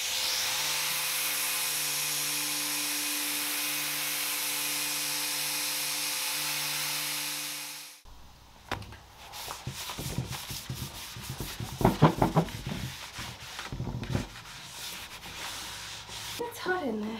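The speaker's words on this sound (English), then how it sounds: "I'm gonna sand the rest" Furniture legs being sanded: about eight seconds of steady, loud, hissing whine from a power sander, then it cuts off and gives way to close rubbing, scraping and handling sounds.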